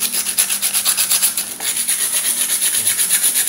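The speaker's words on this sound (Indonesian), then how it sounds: "Menggunakan landasan yang rata, ratakan dengan amplas nih" Sandpaper rubbed over a bicycle freehub cassette ring held on a flat surface to level it, a steady rhythmic back-and-forth scraping of about four strokes per second, close and clear with no talking.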